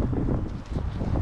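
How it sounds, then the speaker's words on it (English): Rough, low buffeting of wind hitting a lavalier microphone during winter snowfall in Sweden, continuous and loud throughout. "we definitely have some snowfall and some wind"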